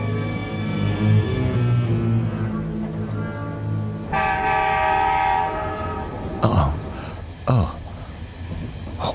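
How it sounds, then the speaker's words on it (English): A train horn sounds in long sustained tones over rolling rail rumble, followed by a couple of sharp metallic clanks as the carriages move. "The train has started moving again."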